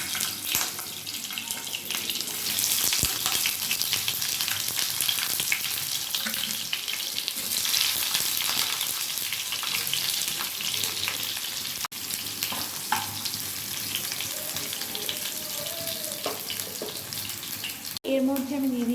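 Chopped raw tomatoes sizzle steadily in hot oil with black cumin for a spicy parshe fish curry, a continuous close hiss with occasional soft stirring clinks.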